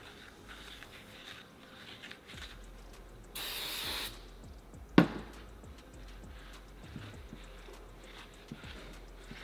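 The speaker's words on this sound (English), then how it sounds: "So this is brake clean." Brake cleaner sprayed in one short hissing burst onto the crank taper of a 2017+ Can-Am X3 during clutch removal, a steady broadband spray lasting about a second amid quiet shop background.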